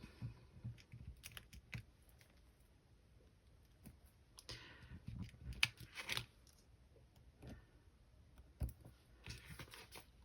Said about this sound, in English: I'm just gonna take these here and snip them apart.